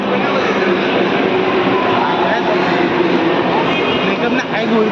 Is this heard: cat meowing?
no